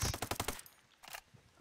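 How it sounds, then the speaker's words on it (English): Rapid burst of automatic gunfire in the tactical shooter Ghost Recon Breakpoint, six or seven sharp shots in quick succession, then a pause and a single later shot, loud and close with no talk. "I'm gonna shoot that guy in the legs"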